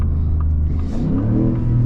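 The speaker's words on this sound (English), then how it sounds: "Let's go ahead and downshift for y'all real quick" Ford Raptor truck engine revving with a loud, close, low rumbling drone and a brief dip and rise in pitch during a downshift, no voices over it.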